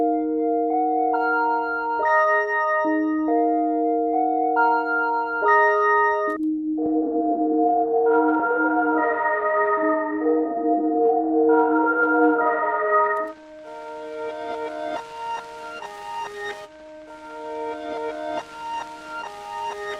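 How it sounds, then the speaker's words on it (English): Crackle reverse piano synth preset playing reversed piano chords that swell in steadily, then take on a crackly noise layer in the later part. "This crackle reverse piano is probably one of my favorite presets in here."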